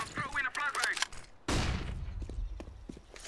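Gunfire in the video game CS:GO during a Wingman match: a sharp shot bursts in halfway through, its booming tail fading under scattered clicks and footsteps, following a short stretch of speech.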